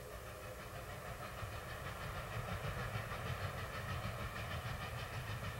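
A train running along a rail line in the Greenwich, Connecticut area, heard as a steady rumble with a rhythmic clickety-clack of wheels over the track, growing slightly louder.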